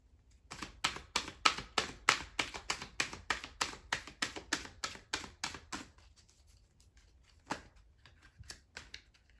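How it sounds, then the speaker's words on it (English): Tarot cards shuffled by hand make a quiet, rapid run of about twenty crisp, evenly spaced slaps, followed by a pause and a few scattered taps. "I guess I need to do an extra shuffle in that situation."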